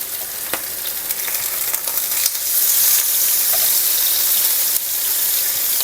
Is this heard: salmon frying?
yes